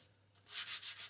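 Sandpaper rubs across a custom guitar body in a luthier's workshop in Sydney, a soft, quiet start followed by four rhythmic, close scratchy strokes back and forth.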